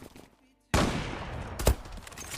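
Automatic gunfire from a cheat account in the online shooter Zula: after a brief quiet moment, a loud, dense stream of rapid shots bursts in and keeps going, with one sharper blast partway through and speech mixed in.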